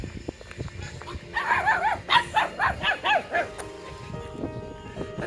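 Puppies by a roadside yip and bark in a quick series of about eight high, bright calls, fairly close, over outdoor background noise.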